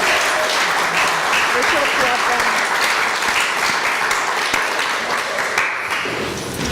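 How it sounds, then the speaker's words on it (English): Loud, sustained applause from an audience at a career opportunities in international relations event, dense clapping filling the whole stretch with a few sharper claps standing out near the end. "Let's give another wonderful round of applause."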